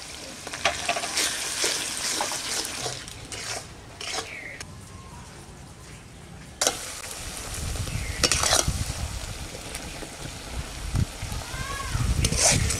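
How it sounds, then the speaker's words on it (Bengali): Salt, turmeric, chilli and cumin powders frying in oil in a pan, crackling sizzle with spatula scrapes and clatter, close and loud, a sharp knock midway and a voice speaking over part of it. "মশলা খুব ভালো করে কষানো হয়ে গেছে আর মশলা থেকে তেলও ছেড়ে দিয়েছে"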